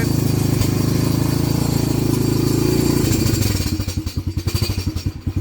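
A smoking small engine on a Ski-Doo or ATV runs loud and steady up close, then turns into a rough, choppy putter with uneven pulses.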